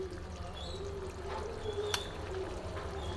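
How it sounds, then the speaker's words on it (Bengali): Mustard paste ground with white cumin and two green chillies goes into a pan of cooked tomatoes for a prawn curry, making a soft wet pour and plop over a quiet bubbling simmer. "সর্ষে বাটাটা যেটা সাদা জিরে আর দুটো কাঁচা লঙ্কা দিয়ে বেটে রেখেছি সেটা আমি দিয়ে দিলাম"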